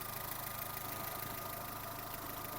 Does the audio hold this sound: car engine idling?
yes